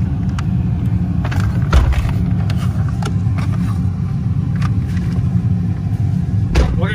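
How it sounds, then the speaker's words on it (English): A 2011 Ford F-250 truck on a test drive, with a steady low engine and road rumble heard from inside the cab and occasional light clicks and knocks. "Let's take you guys on a short test ride,"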